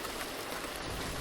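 Steady, dense rain pours down as a tabletop role-playing game sound effect, a continuous soft hiss with no talk over it.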